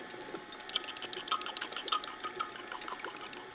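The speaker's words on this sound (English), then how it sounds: "I'm just going to whisk them together." Rapid, light clinking of a whisk against a bowl as cold buttermilk and an egg are beaten together for cheddar biscuits, a quick irregular tapping rhythm, close and fairly quiet.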